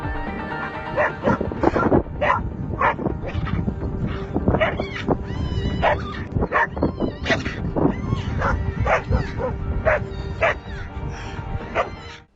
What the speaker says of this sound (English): despite them charging the marmot, they seem more scared, especially that pair of black dogs